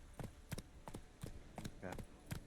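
Roach, Geralt's horse in The Witcher 3, gallops with a rapid, steady rhythm of hoofbeats on the ground. The thuds are close but quiet, with no talk.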